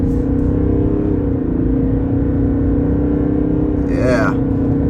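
A 2023 Chevy Silverado 1500 RST accelerates hard on a highway, its engine droning loud and steady throughout with a brief rising swell near the end and a voice faintly present.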